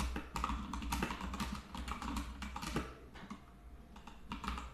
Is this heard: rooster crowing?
no